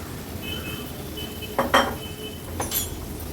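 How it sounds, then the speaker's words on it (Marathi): Eggplant pieces tipped into a spiced pan for an Agri-Koli style vegetable dish, giving a couple of close metallic clinks and scrapes of utensil against cookware over faint background hiss. "आता आपण ह्याच्यामध्ये ह्या वांग्याच्या फोडी घालणार आहोत."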